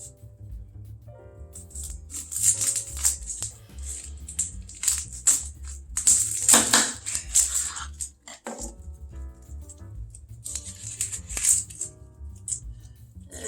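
A knife cuts through a medium-sized onion, trimming the root end and halving it, giving a series of crisp crunching chops and rattling taps on a cutting board, close and fairly quiet.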